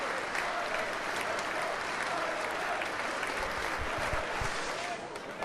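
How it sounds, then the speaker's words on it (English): A football crowd at Glanford Park applauds generously as an injured player is carried off on a stretcher, a broad, sustained ripple of clapping from the stands with faint voices underneath, easing slightly at the end. "The Glanford Park crowd offered generous applause as Murphy left the field on a stretcher."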